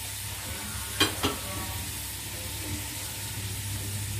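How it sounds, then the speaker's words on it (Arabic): Rabbit pieces with spices and sliced onion sizzle steadily in a pan, with a couple of sharp scraping clicks as the mix is stirred and a constant low frying hiss throughout. "وبنقلب كل الحاجات دي كده مع بعضها"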